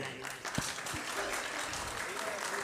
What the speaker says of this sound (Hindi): अरे तुमने अपने भी ताली बजा ली